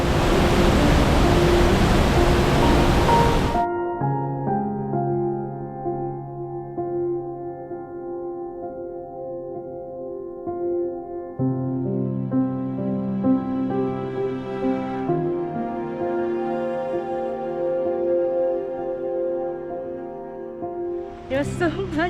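Loud, dense roar of the Blue Falls waterfall in Costa Rica fills the first few seconds up close, then cuts off abruptly and gives way to music.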